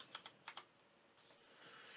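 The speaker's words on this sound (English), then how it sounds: "So we would just type switch" Short bursts of typing on a computer keyboard while writing a switch statement in code, a few quick clustered keystrokes up close followed by quiet room noise.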